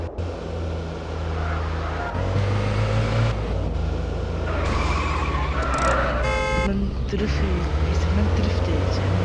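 A car engine roars steadily while drifting in the mobile driving game Madout2, with revving and a brief horn-like toot, all under continuous talking throughout.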